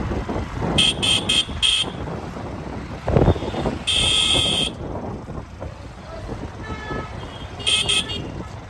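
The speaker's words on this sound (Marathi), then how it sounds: "आज बुधवारचा बाजार आहे किती ट्रॅफिक लागले" Busy road traffic at a Wednesday market carries several sharp car-horn toots: a quick run of short honks early on, a longer blast midway and another pair near the end, over engine rumble and a passing voice.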